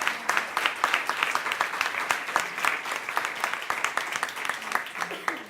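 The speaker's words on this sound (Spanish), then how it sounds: "¿Queréis aplaudir al vídeo?" An audience at a panel on gender violence at the World Forum on Urban Violence claps, with dense, sustained applause throughout and no letup.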